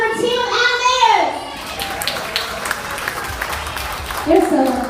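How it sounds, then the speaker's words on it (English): An audience at a holiday resort show claps for the animators team, a burst of applause mixed with cheering and children's voices, rising and fading around a loud amplified voice at the start and end. "We need to give a huge round of applause to the lovely Ruth and her team of animators!"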